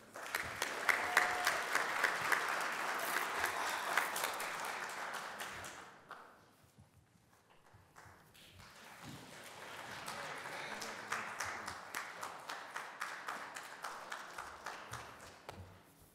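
Audience applause at a National Signing Day event, dense clapping that fades out midway, then a second round builds back up with sharp individual claps standing out near the end.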